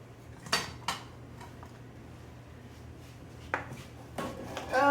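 Metal kitchen utensils and dishes clatter in a home kitchen during cooking, with a few sharp separate clinks spread across the moment and a louder clattering burst at the end, no talking.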